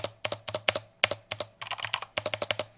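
Someone types on a Corsair K100 RGB mechanical keyboard, spacebar included, producing crisp, evenly spaced clacks with a few quicker rattling runs, close and clear with no talking.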